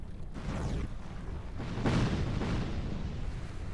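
Deep, rumbling explosions dealing dark damage in the video game Dark Souls 2 roll through a low, muffled boom-laden backdrop, with a couple of swelling blasts a second or so apart at moderate, slightly distant loudness.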